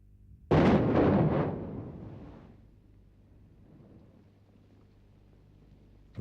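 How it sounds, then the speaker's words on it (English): A blast breaks loose the iron ore rock face on a mining hillside, a single loud, sudden boom followed by a long rumbling decay that settles into low background noise. "faces of the hillside are blasted off to loosen the iron ore for collection"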